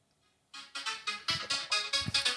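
Crazy Frog ringtone plays from a phone, starting after a brief near-silent pause, then a loud, close, rhythmic run of repeated electronic bursts that continues steadily to the end.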